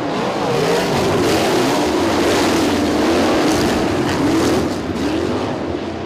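Sprint cars roar around the track at Terre Haute in a USAC National Sprint feature, a loud, dense pack of engines whose pitch rises and falls as they pass, continuous for several seconds with no speech.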